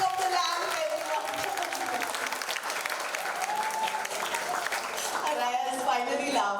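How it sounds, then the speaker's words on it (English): Steady crowd applause fills a book launch ceremony as the lamp is lit, a dense, even clatter of many hands lasting throughout with voices faintly mixed in. "a round of applause for the ceremonial lighting of the lamp, everyone"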